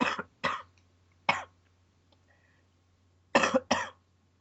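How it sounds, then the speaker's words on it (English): A person in a coughing fit. There are several sharp, close coughs: a pair, then a single one, then a quick double after a pause, over a quiet hum. "I was having another coughing fit"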